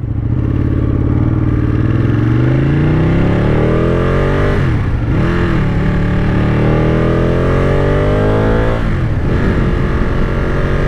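A 2017 Ducati Panigale 959 being ridden at speed, its engine roaring loud and continuous close by, pitch climbing steadily under acceleration and dipping briefly at two gear changes.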